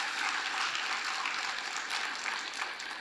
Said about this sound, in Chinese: 真的要给你们自己本身一个掌声